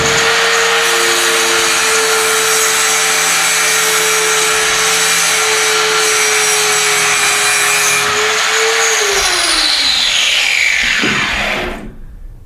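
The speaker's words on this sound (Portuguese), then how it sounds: "Isso que eu estou fazendo aqui, limpando essa peça, é um dos procedimentos que o operador vai ter de seguir" A power tool grinds and brushes steadily at a metal workpiece being cleaned after submerged arc welding. The motor drones loudly and evenly for about eleven seconds, then audibly winds down in pitch and fades out.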